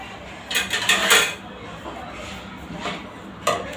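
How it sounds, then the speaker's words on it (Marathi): A metal lid goes onto a cooking pot with a few clattering clinks and scrapes in quick succession early on, then softer taps later, close and fairly loud in a quiet kitchen. "5 मिनटं असं सेट करण्यासाठी ठेवायचं आणि वर झाकण लावायचं"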